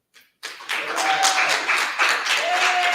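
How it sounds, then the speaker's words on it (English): Workshop audience breaking into applause for the speakers after a brief quiet start, a dense, fairly close round of clapping that swells and holds steady. "First, let's give a round of applause again for the speakers."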